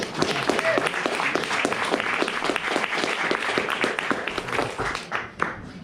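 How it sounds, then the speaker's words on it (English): Dense, steady applause from an audience at a storytelling event welcomes the next storyteller, many hands clapping close and loud before tapering off at the end. "Let's give him a big round of applause."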